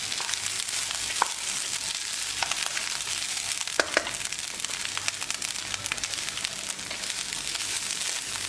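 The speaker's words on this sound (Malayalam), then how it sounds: "അരി ഒന്ന് വിട്ട് വരുന്നവരെ ഒന്ന് വറുത്തെടുക്കാം" Washed rice frying in oil in a pan, a steady dense sizzle with a few sharper crackles and the occasional scrape of stirring, close by and continuous throughout.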